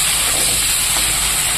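Dried fish sizzles steadily in hot oil, a close, continuous hissing fry that holds level throughout with no voices.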